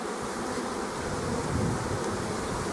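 A swarm of honey bees near an apiary makes a dense, steady buzzing drone that fills the air continuously, loud and close with no pauses.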